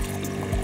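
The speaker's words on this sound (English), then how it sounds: "This is where you put your water in." Water is poured into the base of a Moka coffee pot while camping, a short, soft, steady splashing pour with a faint gurgle near the end.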